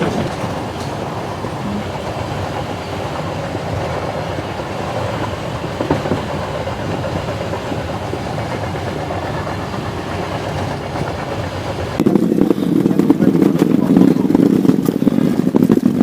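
A train in Vietnam rumbles steadily along the rails with a continuous rolling drone that grows louder and rougher near the end; people talk faintly underneath.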